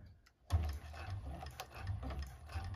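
A 1341 cylinder arm sewing machine back stitching over piping cord for a bag starts after a brief pause and runs steadily with a low rhythmic motor thrum and fine ticking, close and fairly quiet.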